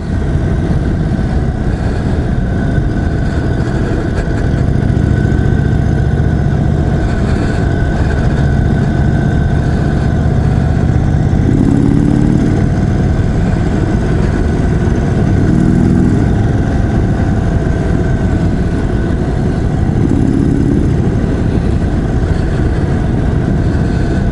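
A 2021 Indian Chief Dark Horse cruiser motorcycle engine rumbles loud and close in a continuous, steady drone throughout, with faint small shifts in pitch and no voices.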